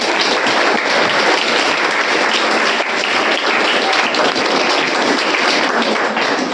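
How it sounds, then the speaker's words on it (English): Students and staff in a school auditorium give their principal a big, dense round of clapping that holds loud and even for several seconds. "let us have a big clap for our principal ma'am"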